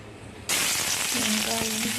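Sudden loud sizzle as onion hits hot oil in a wok, then steady crackling frying with a few light clinks of a utensil.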